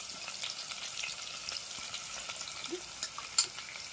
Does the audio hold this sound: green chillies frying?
yes